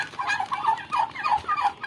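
Turkeys gobble on a poultry farm, their bursts of calls repeating in a steady rhythm for about two seconds at moderate loudness, close by, with no talking.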